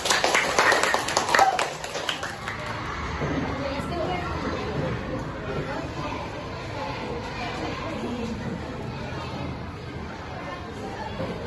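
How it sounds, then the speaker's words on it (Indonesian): A classroom of students in a religious studies lesson claps briefly for a group's presentation, a quick burst of clapping at the start that gives way to continuous chatter and talking. "Tepuk tangan untuk kelompok Asoka"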